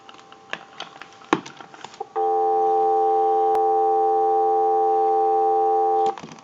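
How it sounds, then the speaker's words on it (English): A steady telephone dial tone sounds on a converted Stromberg Carlson wooden wall telephone for about four seconds, close and clear, preceded and followed by light clicking and tapping. "We'll let it go one more time and we'll give you some dial tone."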